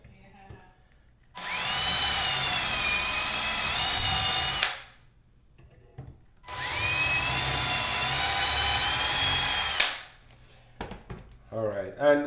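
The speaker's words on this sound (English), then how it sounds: "make your hole and drill through, and go from there." Power drill boring holes through a cabinet with a cabinet hardware jig, two sustained whining runs of about three seconds each with a short pause between, close and loud, followed by faint handling clicks.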